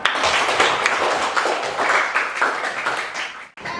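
A classroom of vocational high school students in Tanjung Jabung Timur breaks into dense, steady applause for a classmate's answer, close and lively for about four seconds with no talking over it.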